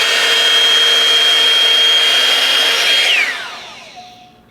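A Revlon One-Step Air Straight hot-air hair tool running over curly hair, a loud steady motor whine with a high tone that winds down as it is switched off, alone.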